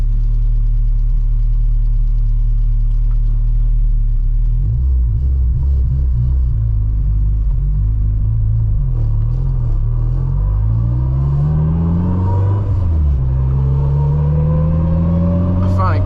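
A built, turbocharged 600 HP Honda Civic Si on its low boost map rumbles loudly, then its engine note rises and falls through hard acceleration and gear changes, heard from inside the car while people talk.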